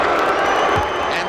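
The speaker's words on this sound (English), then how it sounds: "And the crowd, at least the Tua supporters, aren't happy about it." Dense, roaring crowd noise in an arena during the Lennox Lewis versus David Tua heavyweight championship boxing fight, a steady loud wash of murmuring and shouting spectators filling the whole moment.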